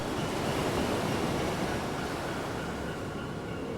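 Ocean waves in the Lost Odyssey video game, a steady loud wash of surf and rushing water with no break, broad and constant like waves crashing nearby, with no voices.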